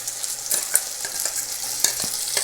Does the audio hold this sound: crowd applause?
no